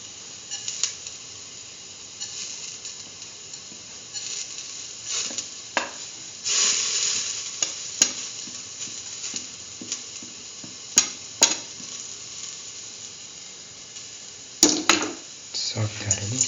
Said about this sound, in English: Now put in the fennel seeds and the Nigella seeds.